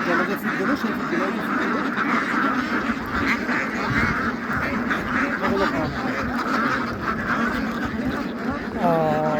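Beijing white ducks on a duck farm quack loudly and continuously in a dense chorus, with the calls of many birds overlapping throughout, and people talking underneath.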